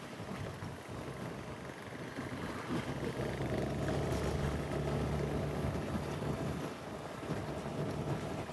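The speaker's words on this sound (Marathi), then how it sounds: "आता बारीक बारीक बारीक बारीक बारीक म्हणत म्हणत मोठाच पाऊस आलाय" Heavy rain falling on a roadside during a monsoon downpour, a dense steady broadband hiss that holds strong and unbroken throughout, with no voices.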